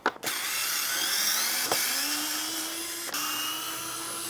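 A power drill spins out Phillips screws on a Honda Navi airbox, a steady high whine with brief stops and restarts, close and alone.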